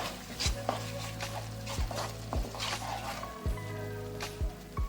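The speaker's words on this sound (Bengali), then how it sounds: "চিনি দিয়ে দেব স্বাদ মতো এই ছোট চামচে দুই চামচ দিলাম এবার নেড়ে নেব ভালো করে" A spoon stirs potato curry with added sugar in a pan: about half a dozen short scraping strokes spaced through the clip over a steady tonal background, with a faint sizzle.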